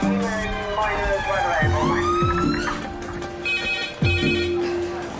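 Red emergency phone in a hospital A&E department ringing in repeated electronic trills, loud and close, with talk and ward noise around it.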